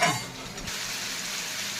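Spice paste of ginger, chilli, cumin and turmeric hits a hot pan with a sharp initial sizzle, then a steady close frying hiss continues, with no talking.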